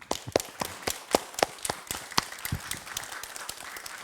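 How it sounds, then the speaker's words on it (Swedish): Scattered applause from a lecture audience at a Crafoord science lunch at Lund University: a few hands clapping in uneven, separate claps that stay moderately loud and fairly close for the whole stretch, with no voices. "Får en applåd igen tycker jag."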